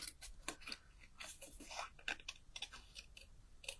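Scissors snip paper in a series of short, crisp cuts during fussy cutting for card making, the irregular clicks close and fairly quiet, with no talking.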